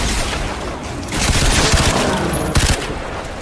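Dense, continuous gunfire in the video game Crysis 3, loud and rapid shots blending into a roaring fusillade with a few sharper bursts toward the end.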